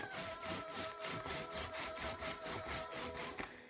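A rhythmic rolling rasp repeats about four times a second, a sticky crackling texture of ink snapping under a brayer while inking a small linoleum block, close and steady.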